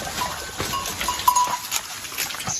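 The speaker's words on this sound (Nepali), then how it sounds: "बाख्राहरू हेर्नु न" Goats grazing in the morning along a forest path, with faint bleats and a bell-like tinkle over rustling, close and soft, briefly heard.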